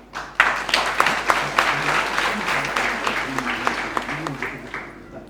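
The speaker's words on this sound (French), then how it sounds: "On peut effectivement les applaudir." Audience applauding at an end-of-training graduation ceremony for students of a health school in Thiès, a steady dense wash of clapping sustained throughout, with a voice faintly audible beneath it.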